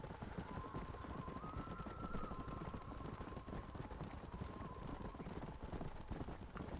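Horses in the video game Red Dead Redemption, with steady hoof clip-clop throughout under a faint whinny-like tone and ambient game sound; a voice is faintly present.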